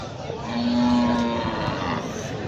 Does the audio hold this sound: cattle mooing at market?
yes